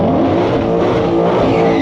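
Ford Mustang Shelby GT500 and Tesla Model 3 in a drag race, a loud, dense, steady roar of a V8 engine at high revs, close and continuous with no pauses.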